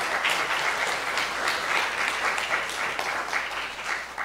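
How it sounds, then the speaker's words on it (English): Congregation at a church worship service applauding, a full, continuous burst of clapping from many hands, loud and even for the whole stretch before tapering slightly at the end. "Let us hear some applause out there."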